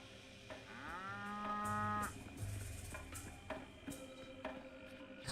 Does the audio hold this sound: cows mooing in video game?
yes